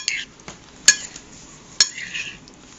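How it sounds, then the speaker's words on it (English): A spoon scrapes and clinks against a dish while stuffing a tomato mixture into zucchini, with two sharp metallic clinks standing out over soft scraping, close up and without talk. "I'm going to stuff the zucchini with."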